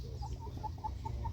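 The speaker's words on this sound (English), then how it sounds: "These are the chickens." Farm chickens cluck softly nearby, about six short, evenly spaced calls over a low background hum.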